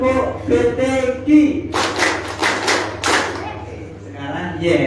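At a training session in Semarang, a group performs a chant-and-clap routine: voices speak first, then several bursts of sharp, rhythmic group clapping follow close by, loud and tightly synchronized.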